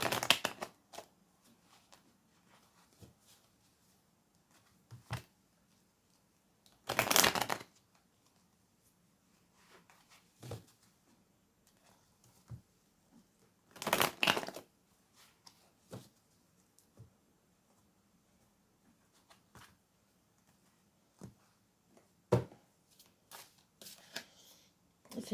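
Tarot cards are shuffled in a few short riffling bursts, separated by quiet stretches with soft taps and handling noises.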